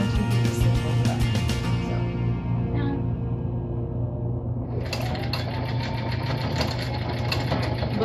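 A sewing machine runs steadily, stitching elastic onto a fabric face mask. The motor whirs close and loud the whole time, with its rhythmic needle clatter continuing throughout and no talk.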